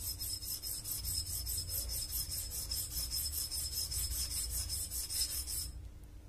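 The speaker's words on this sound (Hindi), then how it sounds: "हम इसे और थोड़ी सी ताकत लगाकर घिसते हैं" A rough diamond is rubbed firmly back and forth on a grinding stone, giving a steady rhythmic scraping rasp of about twenty quick even strokes that stops abruptly near the end.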